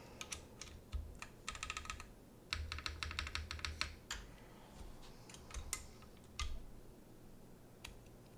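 Rapid bursts of keystrokes from a mechanical computer keyboard during a build stream, crisp clacky clicks in quick runs with short pauses and a few isolated presses, close and fairly quiet.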